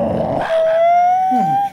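A dog gives a short throaty growl, then lets out a long rising whine-like howl that holds for about a second before cutting off, loud and close.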